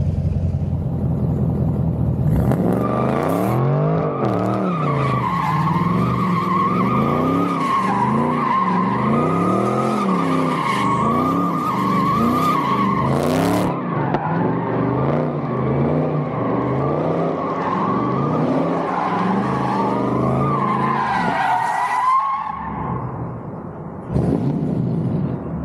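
A C8 Corvette drifting, tires skidding and squealing in long wavering howls over a roaring, revving engine that rises and falls repeatedly, loud and close before the squeal cuts off near the end.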